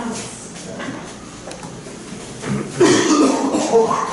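A voice imitates a cough, a raspy breathy burst from the back of the throat used to model a guttural Hebrew sound in a class, with a second rougher burst following.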